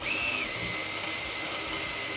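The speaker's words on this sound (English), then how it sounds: "This is a HSS bit, and they're quite good for steel drilling" A continuous high-pitched whine of an HSS bit drilling into steel at slow speed, steady and close, with no talking.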